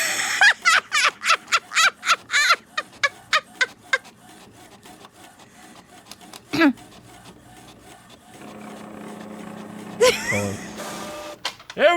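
A printer at work, giving a fast run of sharp rhythmic mechanical bursts and whirs, then scattered clunks and a denser grinding feed.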